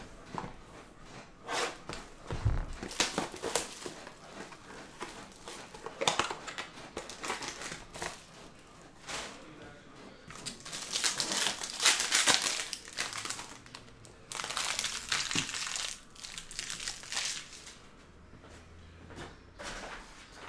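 Packs of 2022 Panini Mosaic Choice baseball cards being ripped open and handled: close crinkling foil wrappers, tearing and shuffling noises coming in irregular bursts at moderate volume over roughly twenty seconds.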